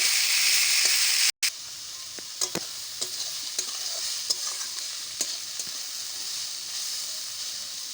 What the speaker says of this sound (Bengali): নুন দিয়ে এবার ভালো করে ঢাকা দিয়ে ভালো করে এগুলোকে ভেজে ফেলবো।